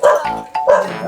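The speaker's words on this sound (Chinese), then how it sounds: "有条小狗在这边，我们拍一下" A small dog gives two quick, close, fairly loud barks in about a second, with no other sound between them.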